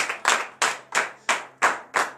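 A church congregation at a morning prayer service claps in acclamation, seven sharp, evenly spaced claps in a steady rhythm, close and loud with no talking.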